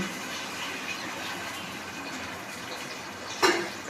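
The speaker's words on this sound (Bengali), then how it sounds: "এখানে জল অ্যাড করলাম" Water pours steadily into a cooking pot holding tomatoes and salt for mutton biryani, making a soft continuous rushing splash that ends with a couple of knocks.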